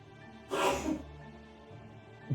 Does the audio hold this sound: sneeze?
yes